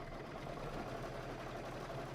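An embroidery machine pieces a quilt block in the hoop with a quarter-inch seam, giving a steady, close, even mechanical whir throughout with no talk.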